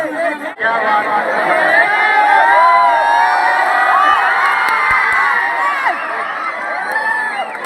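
A large outdoor crowd at a pot-breaking (matka phod) fair cheers and shouts continuously, with children's voices and whoops rising and falling over a dense babble.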